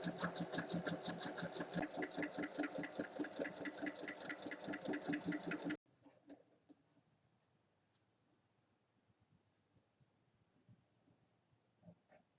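A sewing machine topstitches the opened seam of a rectangular fabric cushion cover, a loud, fast, steady mechanical stitching rhythm that runs for about six seconds and then stops, leaving faint rustles and small handling noises.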